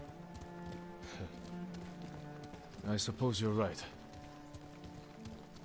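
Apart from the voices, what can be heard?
horse hooves while riding in video game Ghost of Tsushima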